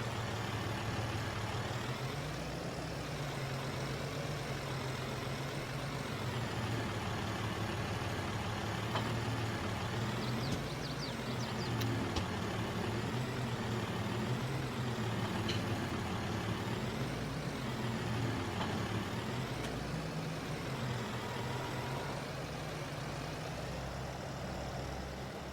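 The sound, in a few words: farm vehicle backing up to a trailer in a farming video game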